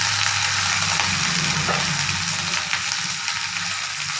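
Saag leafy greens with garlic, onion and green chilli fry in a pan, giving a steady loud sizzle with crackling and stirring throughout and no voices.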